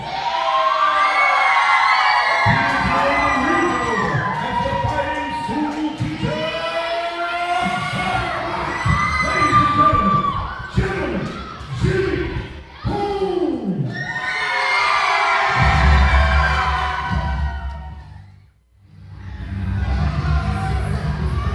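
A large indoor crowd cheers and shouts loudly for schoolteacher boxer Jimmy Holmes at a boxing match, with sustained roaring, whoops and children's shrill yells that swell in waves and briefly dip before surging again.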